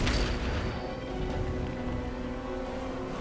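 A spontaneous combustion spell goes off in the video game Divinity Original Sin 2, a loud, close booming blast that opens sharply and then rumbles on as a sustained, heavy roar.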